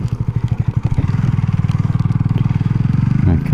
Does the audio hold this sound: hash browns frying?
no